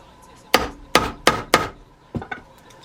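A hammer taps a part of a bike tool pouch into place with four sharp, evenly spaced knocks followed by two lighter, quicker taps, close and loud against a quiet room.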